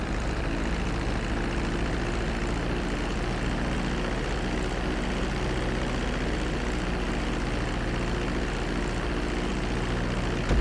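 A steady, loud, unbroken engine drone from an airplane landing on a runway in Grand Theft Auto 5 on PS4, holding constant throughout with no speech.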